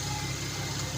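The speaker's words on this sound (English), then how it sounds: "Engine is running smooth." A Nissan VQ37 V6 engine idles steadily with a low, even rumble, a short continuous stretch of smooth running with no talking.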